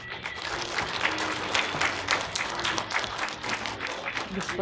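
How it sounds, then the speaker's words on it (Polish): Spectators clap for children after a self-defence demonstration, a moderately loud, steady patter of applause from a small crowd with faint voices underneath. "proszę o brawa dla nich"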